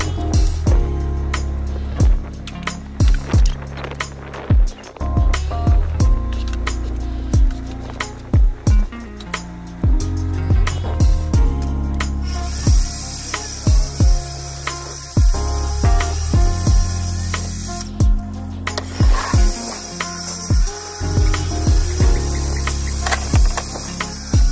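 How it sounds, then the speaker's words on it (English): A table saw rips sheets of MDF into 2 inch strips, its loud steady motor whine running throughout with repeated sharp knocks and clatters as boards feed through and drop, a cut changing tone midway. "it was just time for me to set my table saw up for 2 inch rips"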